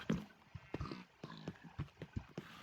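Horses in a Minecraft stable give a series of clip-clopping hoof steps in an irregular rhythm, close and moderately loud with no talking.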